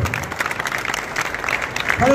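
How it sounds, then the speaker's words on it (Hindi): Audience at a Karachi welfare alliance prize-distribution ceremony rises to applaud, a dense wash of clapping filling the stretch with a few voices mixed in underneath. "खड़े होकर मेरे भाई के लिए तालियां बजाई जाए"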